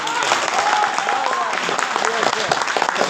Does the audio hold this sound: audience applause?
yes